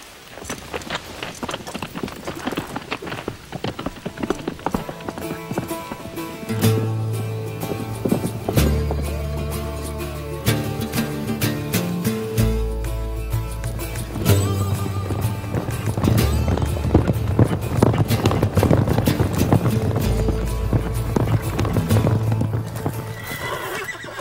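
Horses on a western film soundtrack, with hooves clip-clopping steadily throughout and a whinny partway through, all over swelling orchestral music.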